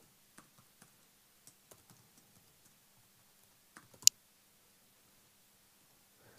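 Sparse keyboard taps and clicks in a quiet room, irregular keystrokes with pauses, ending in one sharper click.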